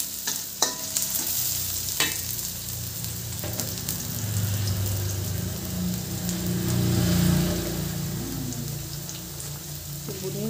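Noodles with vegetables, including carrots, fry in a pan under steady stirring, with a continuous close sizzle broken by occasional sharp clinks and scrapes of the utensil.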